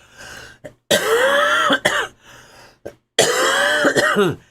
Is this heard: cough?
yes